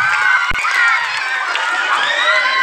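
Children at a school convocation day raise a loud, sustained roar of shouting and cheering that fills the room without pause.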